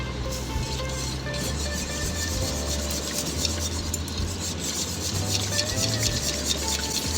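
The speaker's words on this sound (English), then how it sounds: "Whisking it helps get rid of the lumps." A whisk works through a sauce for Swedish meatballs to break up lumps, making continuous close scraping and swishing against the pan with a low hum underneath.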